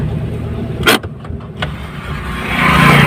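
A car drives along a road marking, its engine hum steady and close with a couple of brief sharp knocks or clicks early on, then a rising rush of road and engine noise toward the end.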